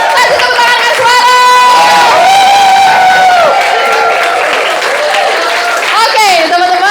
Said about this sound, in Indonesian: Kasih tepuk tangan dulu bagi kita semua.